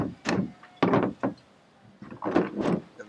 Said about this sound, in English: we then use the chisel as a wedge. This is going to spread the head a little bit and allow you to take the rudder head off